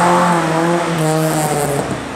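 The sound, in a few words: race car engine roaring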